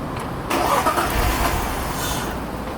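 A BMW E46's engine cranks during a power steering flush: a brief quiet lead-in, then a sudden whirring, churning starter-and-engine rumble that carries on close by for a couple of seconds.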